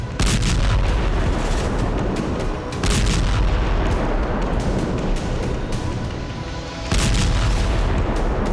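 FAB-3000 bomb explosions strike Volchansk in the Russia-Ukraine war, heavy booming blasts heard as a few big bursts with dense rumbling debris noise between them, loud and continuous.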